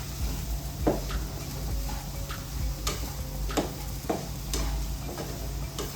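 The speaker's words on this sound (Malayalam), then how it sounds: "ഇതെല്ലാം കൂടെ നല്ലതുപോലെ ഒന്ന് മിക്സ് ചെയ്യാം" Curry with pepper powder and curry leaves is stirred in a pot over a faint sizzle, a spoon scraping and tapping now and then at an uneven pace.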